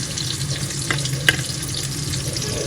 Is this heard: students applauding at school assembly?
no